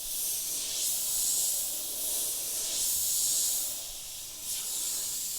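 Paint hisses steadily from an airbrush opened up for a broad spray about 10 centimeters from the surface, a soft continuous airy stream that swells and eases in a few gentle pulses.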